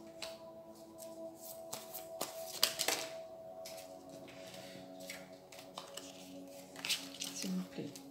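Tarot cards are shuffled and drawn one by one during a reading for Virgo, giving soft quiet flicks, slaps and rustles in an irregular rhythm, close and faint with some handling noise and no voices.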